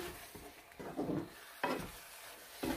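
Grated red and green peppers with onions frying in vegetable oil, a soft sizzle under repeated rhythmic stirring scrapes of a utensil in the pan, close by.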